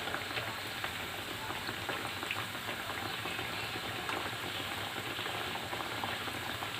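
Chicken nuggets deep frying in oil over a medium-to-low flame make a dense, even bubbling hiss that carries on without a break at moderate volume.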